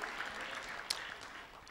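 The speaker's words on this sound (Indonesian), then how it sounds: "Mau tepuk tangan yang meriah bagi Tuhan kita." Congregation applauding during a Sunday church service, a steady, moderately faint spread of clapping with one sharper clap standing out midway.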